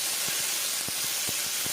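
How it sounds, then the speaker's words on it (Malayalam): Mustard seeds spluttering in hot coconut oil, with a loud continuous hiss broken by sharp, irregular pops close by. "ചൂടായ കടുക് അതിനകത്തിട്ട് കടുക് പൊട്ടുന്നതും അടുത്തൊരു ക്ഷമയാണ്"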